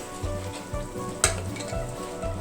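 Drumstick pieces coated in chili powder fry in oil for a tomato drumstick curry. A close, steady sizzle runs throughout, broken by regular scraping stirs about every half second and one sharp clink of a utensil.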